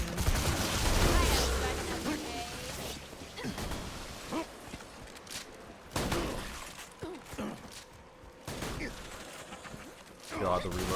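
Gunfire in Borderlands 2, a series of sharp shots and bursts breaking through a busy game soundscape with shattering impacts, loud and close, with a voice speaking at points.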